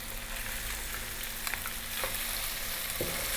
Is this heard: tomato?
yes